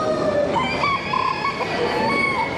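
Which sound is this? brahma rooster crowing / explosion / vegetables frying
brahma rooster crowing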